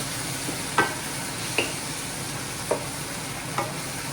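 Palabok sauce being stirred in a pan, a low, quiet simmering hiss broken by four evenly spaced spoon taps and scrapes against the pan; no speech.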